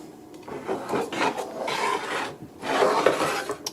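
Scissors trim the edges of a sewn fabric quilt block, giving a close series of soft rasping snips and rubbing sounds in short bursts, without any talk.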